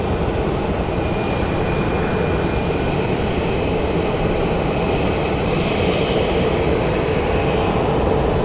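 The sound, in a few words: ABX Boeing 767 aircraft after landing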